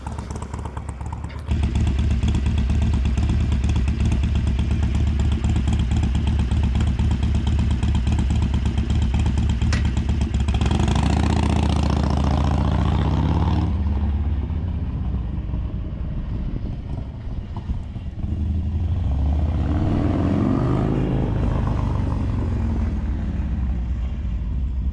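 Harley-Davidson Sportster with a Bassani Road Rage 3 two-into-one exhaust, heard riding around the block with a loud, deep rumble, revving and accelerating close by before the throbbing note pulls away and softens.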